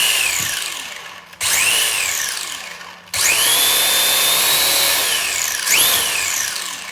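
The electric motor of a Schumacher KC Cougar RC racing car whines up and down in three loud revving bursts as the throttle is pressed and released, close and with no voices.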